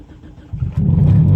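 An old car's engine cranks and catches, turning over briefly before settling into a loud, close, rumbling idle that rises as it fires up.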